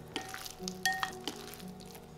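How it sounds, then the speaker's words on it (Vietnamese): Raw beef being mixed with a teaspoon of minced garlic in a bowl, producing soft, wet stirring and squelching sounds with a couple of faint clinks of utensil against the bowl, close and quiet. "Mình trộn đều cho thịt bò được thấm đều gia vị."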